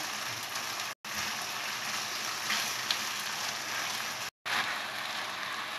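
Chicken, vegetables and spices fry in a pan for spaghetti, giving a steady, even sizzle that runs throughout with two brief silent breaks and no talk.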